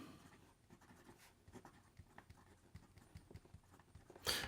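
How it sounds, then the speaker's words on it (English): A fountain pen with a 14 karat medium nib scratches across paper in soft, irregular strokes and taps, very faint and close, ending in a sharp louder rustle. "Here we go with the writing sample for the Leonardo Momento Magico Combustion."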